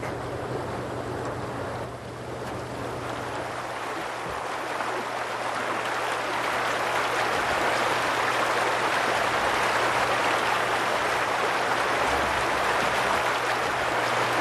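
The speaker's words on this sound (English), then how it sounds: "Listen to the Red Willow Creek." Red Willow Creek near Taos Pueblo, fed by melting snow, rushes in a continuous broadband wash of flowing water, steady and fairly loud throughout, with a faint low hum underneath and no voices.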